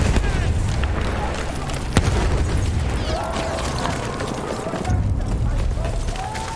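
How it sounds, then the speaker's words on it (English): A grenade goes off in Battlefield 1 Domination gameplay, a heavy boom near the start and a second deep blast later, set amid continuous battlefield noise and in-game voice callouts. "Throwing a grenade!"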